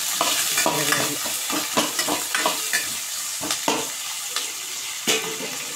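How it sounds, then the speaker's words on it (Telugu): Onions frying in a pan for a fish curry give a loud, steady sizzle, while a spoon scrapes and clatters through them in irregular strokes, close up and with no talking. "ఎర్రగడ్డ ఎర్రగా ఫ్రై అవ్వాలి."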